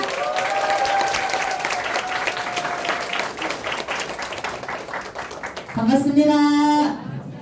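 A business group meeting audience applauds to welcome a guest speaker, a steady wash of clapping across the room, with sustained tonal sounds rising over it near the start and again near the end.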